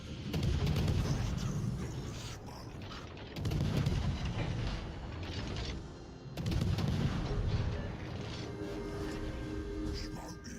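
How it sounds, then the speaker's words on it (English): Torpedo hits landing on a warship in a naval combat video game, three heavy booming impacts in a row over a continuous rumbling battle soundscape. "we'll take the 5 torpedo hits"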